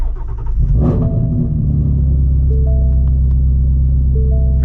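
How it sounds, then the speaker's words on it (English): A Shelby GT350 Mustang (2016–2020) engine cranks and fires, catching with a brief flare before settling into a loud, steady, deep rumbling idle close by. "it's not even loud when you start the car"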